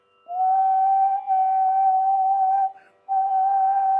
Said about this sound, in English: there are techniques which are only outward whistling